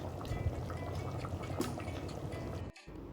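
Water pours steadily into a pot of mutton bone curry for a few seconds, a continuous splashing gush that cuts off abruptly near the end.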